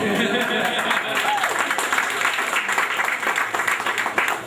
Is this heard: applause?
yes